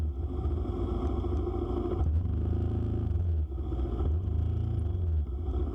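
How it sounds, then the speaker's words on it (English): Road traffic during a morning motorcycle ride on a Dominar 400, with a steady low engine rumble and dense vehicle noise surrounding the rider, continuous and close throughout. "traffic this morning was quite terrible for some reason, as you can very well see here in this video"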